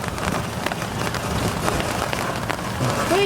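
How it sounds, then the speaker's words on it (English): Steady rain falls outdoors on a New Orleans trip, a dense, continuous patter on hard surfaces with scattered louder drops throughout, fairly close and without talk. "Oh, now it's raining."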